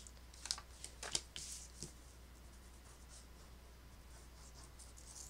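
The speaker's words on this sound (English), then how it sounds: "Just cut some more off the end and you can make them even" A few soft, brief scissor snips trim the uneven ends of paper envelope strips, close and faint in a quiet room, followed by near-silence.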